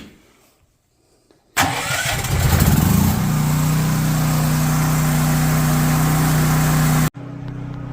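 A propane generator cranks with a brief rough churn, then catches and settles into a steady, loud, close running drone after the choke is turned off, ending abruptly.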